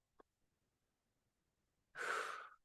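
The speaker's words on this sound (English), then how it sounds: "Slow down your breathing." Slow, relaxed breathing during a guided relaxation class: a soft, close exhale rises after near-silence, with only a faint click earlier.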